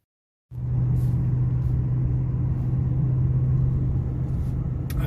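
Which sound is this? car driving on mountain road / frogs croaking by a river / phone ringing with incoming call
car driving on mountain road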